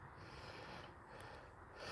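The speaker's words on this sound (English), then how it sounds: "He loves just to sniff." A dog sniffs and snorts in steady, quiet bursts of breathy air, close by and alone, with no voices.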